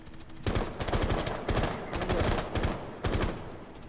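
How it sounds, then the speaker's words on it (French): Gunfire in Rainbow Six Siege rattles out in loud, rapid bursts, with several volleys of automatic shots close together and some dull impacts between them. "Ça tire mais je sais pas d'où"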